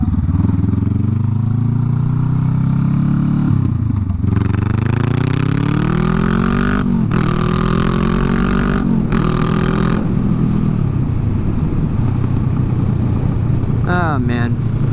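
A motorcycle engine revs loudly throughout while riding, pitch rising and falling with repeated throttle pulls and gear changes, close and dominant, with a brief higher whine near the end.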